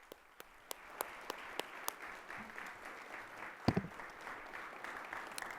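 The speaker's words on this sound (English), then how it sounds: "Round of applause." An audience at a Columbus Metropolitan Club panel discussion claps in moderate, fairly sparse applause heard from a distance, with a few sharper individual claps standing out and one louder knock partway through.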